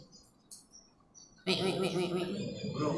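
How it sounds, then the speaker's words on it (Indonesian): Soft, faint chirps sound in the quiet, then a steady, busy trilling call rises and continues loudly, like a bird calling close by. "Oh, burung."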